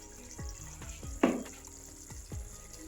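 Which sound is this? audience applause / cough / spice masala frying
spice masala frying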